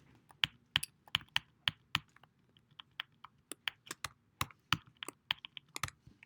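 Computer keyboard typing, crisp close clicks in quick irregular bursts of keystrokes with short pauses, alone in a quiet room.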